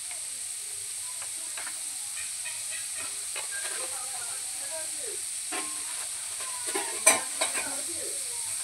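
Potatoes sizzle and hiss in a frying pan with scattered scraping stirs and clinks, a soft voice talking over the cooking.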